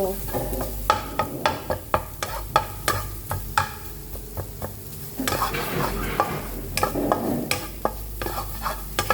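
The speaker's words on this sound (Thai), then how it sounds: "คั่วให้มันฟูออกมานะคะ" Shrimp stir-roasted in a pan until fluffy, with a continuous sizzle and rapid, rhythmic clinking and scraping of a spatula, close and fairly loud.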